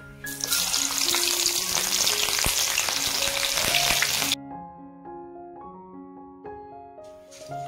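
Chopped green chillies sizzle loudly in hot oil while cooking potato chivda, a dense crackling fry for about four seconds that then cuts to quieter background music.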